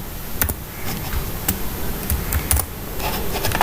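Computer keyboard being typed on while writing Flutter code, a close series of irregular clicking keystrokes in short bursts with brief pauses, no talk.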